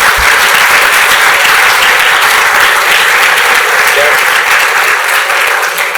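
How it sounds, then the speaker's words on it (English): A large crowd gives dense, steady applause at the IC Hack 17 hackathon closing ceremony, loud and close, with continuous clapping throughout. "Big clap for all you, because you've achieved it"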